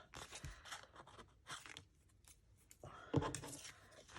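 Scissors cut paper for a vintage vellum journal pocket. Close, quiet snips and crunchy cuts come in irregular bursts, with a sharper cluster of cuts near the end.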